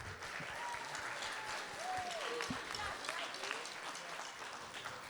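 A crowd at a middle school band concert gives sustained applause for the trash can drummers, dense clapping throughout with occasional whistles and shouts on top.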